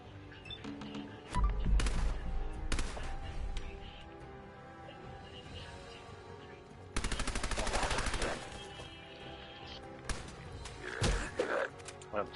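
Gunfire from the video game Fallout 4 comes in several loud bursts, including a rapid machine-gun-like volley, separated by quieter stretches of game ambience.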